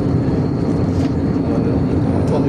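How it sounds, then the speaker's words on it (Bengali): Airplane cabin noise in flight: a loud, steady low roar of engines and airflow filling the whole moment without a break. "বিমানের ভিতর থেকে বসছি।"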